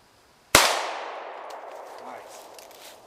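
A single sharp shot from a Kel-Tec Sub-2000 pistol-caliber carbine fired at spinning targets cracks loudly out of quiet, then trails off in a long ringing, echoing decay.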